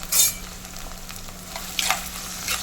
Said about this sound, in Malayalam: എണ്ണ നല്ലപോലെ ചൂടായിട്ടുണ്ട് ഒരു ചെറിയ സവാള അരിഞ്ഞത് ഇട്ട് കൊടുക്കാം കൂടെ തന്നെ നല്ലപോലെ പഴുത്ത ഒരു തക്കാളി ഒരു മൂന്ന് ചെറിയ പച്ചമുളക് കൂടെ ഇട്ടിട്ടുണ്ട്